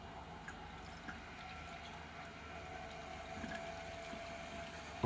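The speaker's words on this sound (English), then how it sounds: "now the impeller is spinning a lot faster." EK PC liquid cooling loop pump with its impeller spinning faster, a faint steady whir mixed with soft gurgling and dripping coolant, quiet and continuous throughout.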